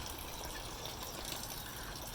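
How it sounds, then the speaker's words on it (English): Water circulates quietly between buckets of a Dutch bucket hydroponic system, a faint, steady trickle and gurgle that continues evenly without talking. "This is where the water circulates from the first one to the second one"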